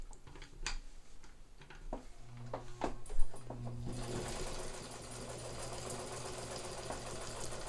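A mint-condition Italian Necchi Supernova Ultra zigzag sewing machine starts with scattered clicks and taps, then runs into a smooth, quiet, steady whirring hum as it stitches cotton with brown thread, close and continuous.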